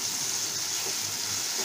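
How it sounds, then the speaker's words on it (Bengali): Ground onion paste frying lightly with a little sugar for golda prawn malai curry, giving a soft, even hiss that runs throughout without talk. "পেঁয়াজটা একটু হালকা ব্রাউন করে ভেজে নেব।"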